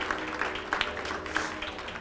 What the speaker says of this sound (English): Big round of applause for Scotty